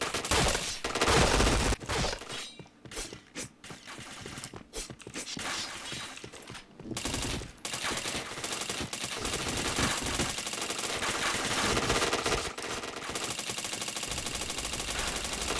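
Rapid video-game gunfire bursts loud and dense throughout, with sharp shattering impacts and brief gaps around the middle, during a shooter match.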